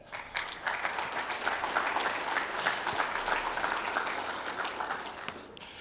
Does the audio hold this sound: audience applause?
yes